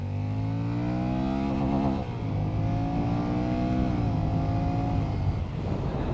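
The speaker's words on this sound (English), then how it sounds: "let's rev it out" A Honda Rebel 1100 DCT motorcycle engine revs hard and close, climbing in pitch through gear changes with brief dips between shifts, a loud steady drone with no talking.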